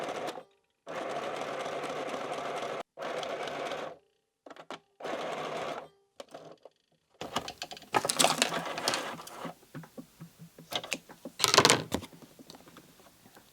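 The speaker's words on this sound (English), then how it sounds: "I'm just going to sew like this with maybe a bit of zigzag here and here" A domestic sewing machine stitches through tissue-paper faux vintage postcards, running in several loud bursts of steady motor whirring with short pauses, then giving way to scattered clicks, rustling and handling of the paper and fabric.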